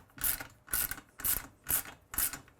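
Allen wrench working scope mount bolts on an Inline Fabrication micro mount, five evenly spaced rasping, ratchet-like strokes about half a second apart, close and fairly quiet with no voices.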